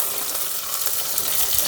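Sliced onions and green chillies fry in oil with popped mustard seeds, a continuous close sizzle and hiss with no talking.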